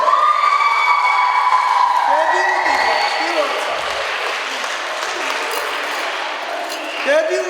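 Audience applause and cheering for debutant dancers at a dance ensemble's awards performance, a steady broad wash of clapping from a sizeable crowd lasting throughout, with faint whoops on top.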